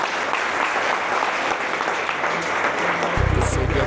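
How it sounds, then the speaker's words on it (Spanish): Studio audience applause on a Colombian television special: a dense, steady wash of many hands clapping continuously at moderate loudness, with no talking over it. "Un aplauso para él."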